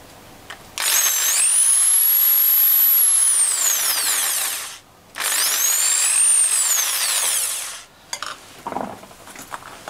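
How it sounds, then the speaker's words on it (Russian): A power drill bores holes from both sides of a steampunk Tesla-style night lamp: two long, loud, steady whines that rise and fall in pitch, split by a short pause, then a few light knocks and handling sounds. "То есть я просто сейчас просверлю с обоих сторон по дырочке."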